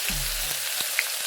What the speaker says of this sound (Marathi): तेल गरम झाल्यानंतर आपल्याला त्यात लसूण आणि मिरची जी आपण वाटलेली होती ना ते टाकून घ्यायची आहे.